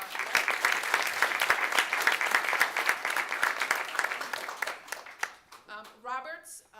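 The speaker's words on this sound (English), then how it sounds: "let's have a round of applause for that" Steady applause fills a school board meeting room, a modest crowd clapping evenly before it fades and a voice starts talking.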